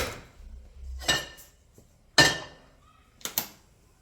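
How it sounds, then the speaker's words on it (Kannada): A metal pan is set down on the stove before deep-frying crispy chicken kebabs, giving a few sharp, close clanks and knocks spread over several seconds with quiet gaps between them. "ಈಗ ನಾವು ಕಬಾಬ್ನ ಡೀಪ್ ಫ್ರೈ ಮಾಡೋಕ್ಕೆ ಒಂದು ಪ್ಯಾನ್ ಇಟ್ಕೊಳ್ಳೋಣ."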